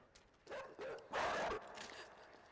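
A dog barks in the video game Inside, a few faint, distant yaps followed by one longer, louder burst, then quieter noise.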